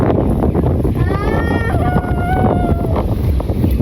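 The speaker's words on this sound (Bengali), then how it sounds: "দেখেন কত সুন্দর বাতাস আর নদীর জলের ঢেউ" Strong wind buffets the microphone on a river boat, a steady roaring rush with water lapping beneath, while faint tonal whistles drift in and out over the constant gusting.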